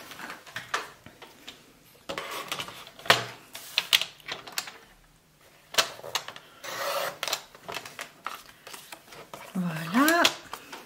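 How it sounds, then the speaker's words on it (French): A paper trimmer cuts a piece of card for a pop-up card, with brief scraping, ticking strokes of the blade close by, broken up by pauses and mixed with someone talking in French. "je vais reprendre mon morceau, je vais recouper à la bonne longueur"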